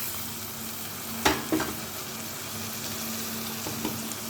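Masala for Bengali prawn malai curry bubbling and sizzling in a pan after a little water goes in, a steady close hiss with a couple of brief stirring knocks.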